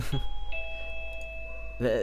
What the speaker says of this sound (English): Okay, that's my doorbell still.